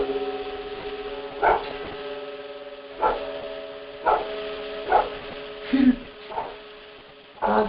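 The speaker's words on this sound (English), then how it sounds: "Dogs aren't always barking like that." Dogs bark intermittently in short, spaced bursts over a steady electrical hum, sounding somewhat distant.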